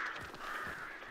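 Crows caw in the horror shooter Hunt: Showdown, a quick run of harsh, rasping calls over about a second, fairly close and with no talk.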